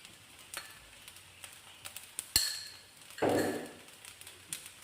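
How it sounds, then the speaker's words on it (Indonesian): Taiwanese-style fried rice with spring onions being stirred in a pan, a soft sizzle with scattered scraping taps and a louder burst of frying near the end, close and fairly quiet. "Kita aduk sampai tercampur merata ya. Kita aduk sebentar baru kita angkat."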